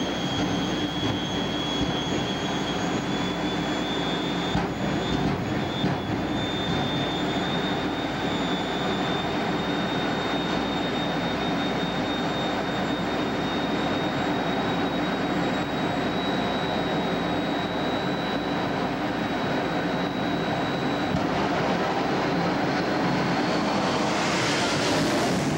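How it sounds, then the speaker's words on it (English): A jet-powered drag racing car roars down the quarter-mile strip in a continuous, loud jet-engine blast with a high whine running through it, steady for the whole stretch. "Exciting jet car action."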